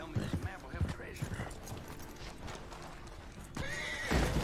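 Hooves clip-clop in a quick gallop and a horse lets out a neigh in the Western video game Red Dead Redemption II, then a louder scuffling thud near the end.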